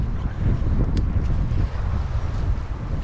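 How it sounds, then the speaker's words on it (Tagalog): Strong gusting wind buffets the microphone with a loud, constant low rumble for the whole clip. "medyo malakas po talaga yung hangin"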